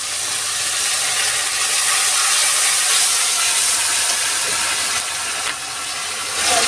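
Water poured into a frying ginger-cumin paste in a pan erupts into a loud, steady hiss of steam and sizzle, continuing unbroken for several seconds with no voices.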